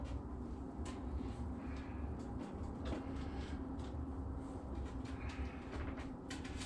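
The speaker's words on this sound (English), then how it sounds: "Oh, train time. Here a train." A train rolls around the Tehachapi Loop, heard as a faint, distant, continuous rumble with scattered metallic clanks and rattles.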